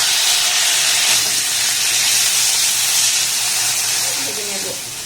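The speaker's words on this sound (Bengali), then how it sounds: "সমস্ত উপকরণ একটু নাড়াচাড়া করে ভেজে নিয়েছি" Boiled sweet baby corn and other ingredients fry in a pan, giving a loud, steady hiss and sizzle close by that eases off slightly toward the end.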